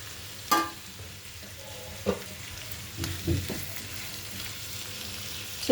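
Cucumber and tomato pieces frying in a pan give a soft, low sizzle with a few scattered stirring clinks and scrapes, fairly quiet and close, with no voices.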